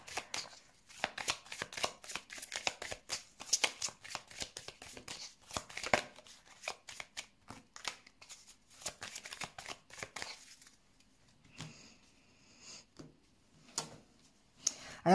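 Tarot cards being shuffled for a reading, a long run of quick, soft riffling and tapping clicks close by, steady and fairly quiet, thinning into sparser taps near the end.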